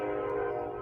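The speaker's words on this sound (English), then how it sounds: "Sorry about the train, guys." A passing train's horn sounds as one loud, sustained, steady blast heard near a swamp, filling the whole short moment with no talk.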